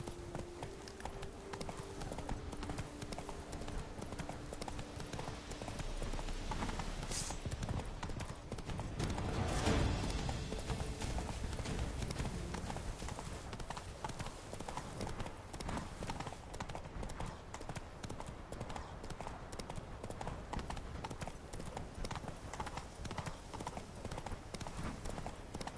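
Horse hooves galloping in the video game The Witcher 3: Blood and Wine, a steady rapid clip-clop running throughout with a louder swell midway, close and continuous.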